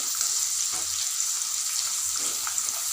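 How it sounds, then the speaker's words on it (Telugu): Corn kernels fry in hot oil with a dense, steady, hissing sizzle, close and loud, holding constant throughout. "ఈ విధంగా లైట్ గోల్డెన్ కలర్లు వచ్చేంత వరకు వేయించుకోండి."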